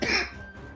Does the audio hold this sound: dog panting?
no